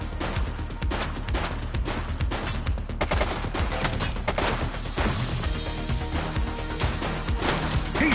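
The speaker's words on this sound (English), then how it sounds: "He's shooting!" Dense, continuous rapid gunshots ring out loud and close over a busy game soundscape, with scattered crashes and bursts layered throughout.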